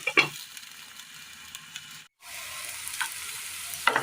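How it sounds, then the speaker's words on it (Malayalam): Onions and tomatoes sautéing in a pan for a Kerala broccoli curry, a close steady sizzle with a spatula scrape at the start, a short silent gap midway, then sizzling resumes with a clink at the end. "സബോളയും തക്കാളിയും ഒന്ന് വഴന്ന് കിട്ടിയിട്ടുണ്ട്."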